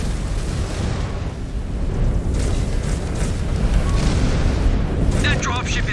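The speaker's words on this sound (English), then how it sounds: "Incoming missile." Missile explosions in the MechWarrior 5: Clans mech combat game, heard as a steady rumbling barrage of booms and bursts with brief sharper impacts near the end, loud and continuous throughout.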